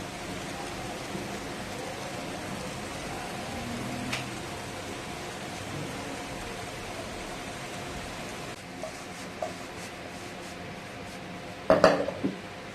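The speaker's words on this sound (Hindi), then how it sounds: "इसको अच्छी तरीके से मिक्स करेंगे।" Eggs for an Afghani omelette being mixed with crushed black pepper in a bowl, a soft steady scraping and swishing with a few sharper clinks of utensil against the bowl near the end.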